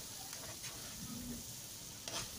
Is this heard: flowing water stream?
no